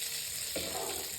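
Potatoes fry in hot oil for an Assamese egg curry, a steady close sizzle that swells midway as they hit the pan, with no voices over it.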